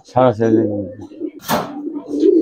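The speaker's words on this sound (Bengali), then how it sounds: "এখানে কবুতর আছে এরকম, আসলে অনেক সুন্দর সুন্দর কবুতর আছে।" Pigeons coo in a loft of Giribaz and silver coloring pigeons, soft low calls close by, mixed with someone talking over them.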